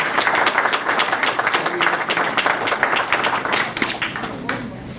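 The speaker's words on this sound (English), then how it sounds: "give Representative Ramone a round of applause" Audience at a county public safety department award ceremony applauding Representative Ramone, steady, dense clapping from a roomful of people that holds at an even level throughout.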